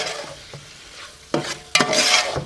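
Chicken with onions and tomatoes stirred in a pot, a quiet simmer broken by two scraping spoon strokes that stir up louder bursts of sizzling.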